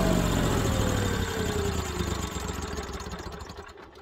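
An Onan Marquee Gold 5500 generator runs steadily with a droning engine hum, loud and close, easing slightly toward the end with no talking.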